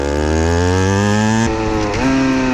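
A small 50cc motorbike engine drones steadily, then its pitch drops abruptly as a downshift is made without a throttle blip, giving a brief jerk before the tone settles lower.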